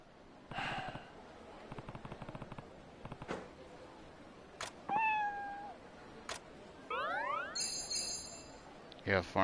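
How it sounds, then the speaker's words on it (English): A stray cat in the Like a Dragon: Ishin video game gives several short meows amid scattered game effects, chimes and a springy twang, with a voice talking at times. "You have formed a bond with the filthy cat."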